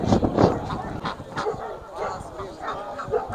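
Geese honk in short bursts amid other farm birds and barking, with people talking nearby in a busy poultry market in Kyzylorda.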